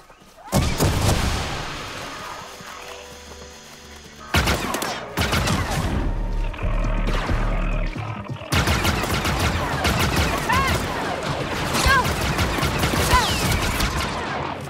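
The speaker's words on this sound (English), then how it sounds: "We're shooting our way out of this" Dense gunfire in the video game Star Wars Outlaws, loud bursts of rapid shots and blasts arriving in waves with short lulls, crashes mixed through the barrage.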